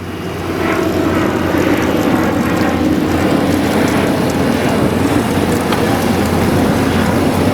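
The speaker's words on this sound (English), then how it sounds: "We got an airplane coming up." An airplane passes overhead above a construction site for a storm-drain water recycling facility in Los Angeles, a loud, broad engine roar that swells in and holds steady throughout, with no talk.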